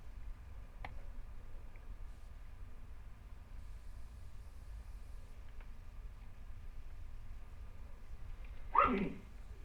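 One short, sharp sneeze near the end, after a long stretch of quiet room hum with a few faint ticks.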